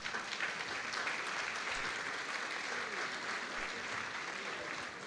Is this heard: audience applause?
yes